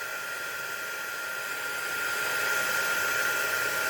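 A heat gun blowing hot air onto shrink plastic makes a steady, close hiss with a thin whine, growing slightly louder partway through, with no talking.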